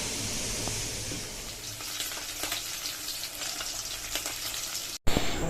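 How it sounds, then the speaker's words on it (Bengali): Fish sizzling in oil in a wok, a dense, steady crackling fry close by that runs unbroken before cutting off abruptly near the end. "মাছ ভাজতে দিয়ে দিয়েছি"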